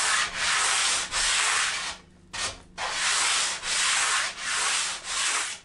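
Steady sanding strokes rasp across a wooden surfboard stringer in long even passes, with a brief pause midway before the rhythmic rubbing resumes, close and fairly loud.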